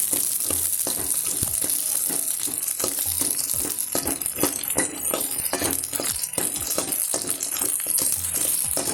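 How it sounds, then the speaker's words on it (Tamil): Garlic and chillies sautéing in a pan for a summer ragi kali dish, a constant close frying hiss punctuated by regular clinks and scrapes of a spoon stirring against the pan. "அதோட பூண்டையும் போட்டுக்கலாம் மிளகாயும் போட்டுக்கலாம் நல்லா வதங்கிட்டு"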